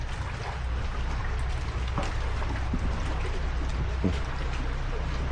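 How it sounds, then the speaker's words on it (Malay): Steady rain falling in a Malay village, a dense continuous hiss with scattered drips and taps on nearby surfaces, moderately loud and unbroken, with a low rumble underneath. "Hujan dah mulai lebat."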